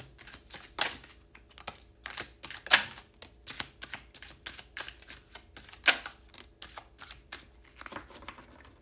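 Cards being shuffled in quick, crisp bursts of riffling and tapping, close and fairly quiet, with no talking.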